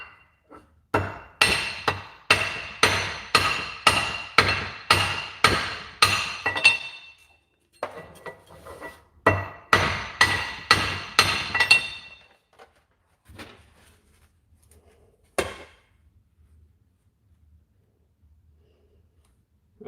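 Steady, loud hammer blows on a metal part during repair work on a Traxxas UDR, struck about twice a second in a long run, then a pause, a second burst of blows, and a few scattered knocks trailing off.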